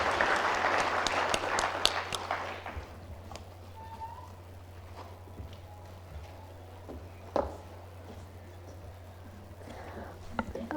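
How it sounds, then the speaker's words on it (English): Applause from a conference audience for the speakers at a sustainability plenary session, fairly loud and dense at first, then thinning out to scattered faint claps and room noise under a low steady hum. "Give them a round of applause"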